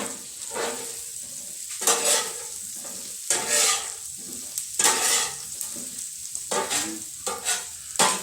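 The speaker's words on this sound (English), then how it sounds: "Got it cooking in that chorizo. The grease that comes off of it." Chorizo and potatoes fry in a pan, a steady greasy sizzle broken by repeated scraping stirs of a utensil against the pan, close and moderately loud, with no talking.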